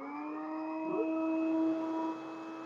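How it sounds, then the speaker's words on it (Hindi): An Orpat electric hand blender motor runs steadily, giving a continuous whirring hum with stable tonal whine throughout, fairly close and alone without speech. "आप मोटर की आवाज साफ सुन सकते हैं।"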